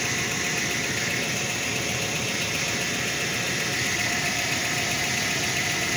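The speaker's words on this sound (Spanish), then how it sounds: "No se escucha mal el motorcito." A Ford Flareside pickup's engine idles on its first start after four years, a steady close-up mechanical rumble with fine rattling texture and constant loudness throughout.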